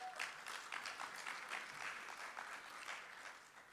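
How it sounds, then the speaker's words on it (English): Audience applause at the opening ceremony of a conference held at the Shangri-La Hotel in Kuala Lumpur, a steady wash of many hands clapping at moderate distance for the full stretch, with no talk over it. "Please give him a big round of applause."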